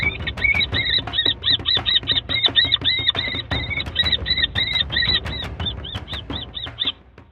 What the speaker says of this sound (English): The kestrel grapples with the intruder, grabbing it by its face and calling furiously to see off the barn owl.